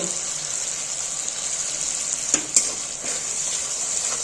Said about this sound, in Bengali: এইটাই আমি এবার ভালো মতো আগে কষিয়ে নেব মশলাটা